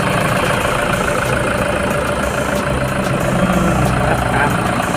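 A Toyota Fortuner 3.0 V diesel turbo 4x4 engine idling, a steady close rumble with constant rough clatter and no change in speed throughout.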